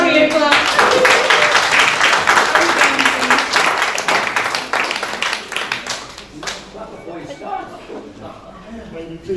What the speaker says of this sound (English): Let's give Harry a clap.